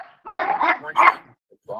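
Dogs barking in a pack somewhere off to the side, a few short harsh barks in quick bursts, mixed with voices.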